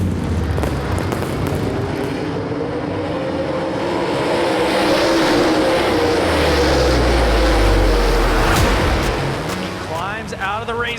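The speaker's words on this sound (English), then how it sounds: "When they go green, you hear 900 horsepower out of all 24 cars." A field of 24 dirt late model race cars, about 900 horsepower each, roars at the green flag of the World 100. The loud, dense engine noise builds, peaks, then eases slightly at the end.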